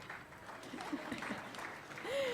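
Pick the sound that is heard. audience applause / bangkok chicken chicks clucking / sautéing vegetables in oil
audience applause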